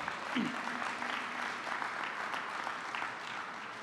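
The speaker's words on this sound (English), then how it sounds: "round of applause for Randy" A crowd at a groundbreaking ceremony applauds steadily for a few seconds, a broad even wash of clapping heard from a slight distance, with a brief voice near the start.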